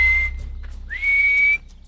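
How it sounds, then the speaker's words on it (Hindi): Hadza people in camp whistle to call friends, two clear sustained high whistles, the second rising into a long held tone, heard alone. "कैंप में मौजूद लोग अब अपने उन दोस्तों तक पहुंचने के लिए सीटी बजा रहे हैं"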